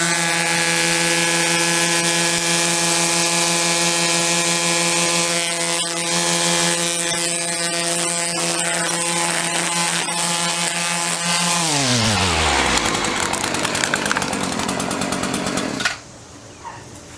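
A gas string trimmer fitted with STIHL CF3 Pro line runs at a loud, steady high whine close by, then the engine drops in pitch and winds down before the end.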